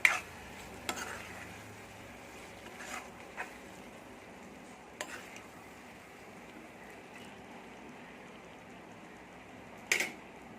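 Tomato chutney cooking over a low flame with oil rising to the surface is stirred in a pan, giving a soft, quiet sizzle with a few sharp scrapes and clinks of the spoon.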